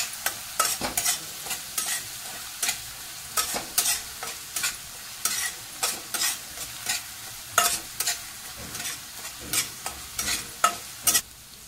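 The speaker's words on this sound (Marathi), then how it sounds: "त्याच्यानंतर हळद टाकायचं आहे, ते पण चांगलं तेलामध्ये परतून घ्यायचे" Turmeric frying in oil is stirred in a pan, with a steady run of spoon scrapes and clinks over a soft continuous sizzle, close up and with no voices.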